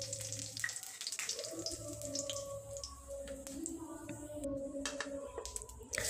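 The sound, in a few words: bay leaf, dried chili, cumin, garam masala tempering in mustard oil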